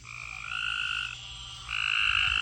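A frog in the Tennessee mountains calls in two long, bleating, sheep-like notes separated by a short gap, loud and close against a quiet night background, with no talking.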